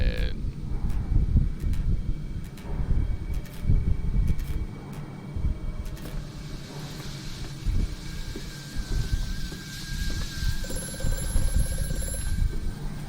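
A telephone rings repeatedly inside a video game, a short bright ring in a regular series over a low rumbling game backdrop, with someone talking over it.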